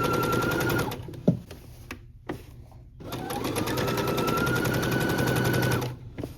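A sewing machine stitches a seam on woven fabric for a romper. It whirs loudly and steadily, pauses briefly with a couple of clicks, then runs again at an even pace.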